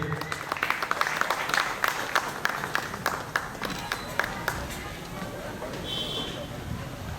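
An audience at a Viksit Bharat Sankalp Yatra ceremony in a primary school in Sardarnagar, Bhavnagar, welcomes the deputy mayor with a dense burst of clapping that runs for about five seconds and then thins out.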